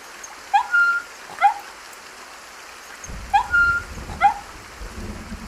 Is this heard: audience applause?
no